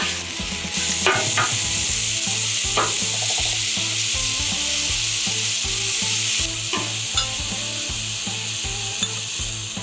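Strips of steak for Philly cheesesteak sandwiches searing in a hot pan, a loud continuous sizzle with repeated scraping and clinking of a utensil turning the meat, no voices.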